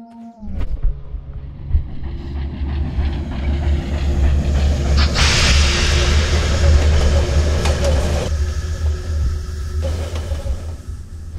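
A train rolls past in the Sherlock Holmes: Crimes and Punishments video game, a loud, heavy rumble that swells within the first second and holds steady with clattering wheels and a hissing rush for over ten seconds.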